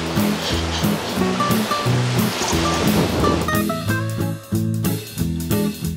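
Sea surf heard from a hotel pool area in Cancún, Mexico: a steady, loud wash of breaking waves runs throughout, mixed under bright, rhythmic background music.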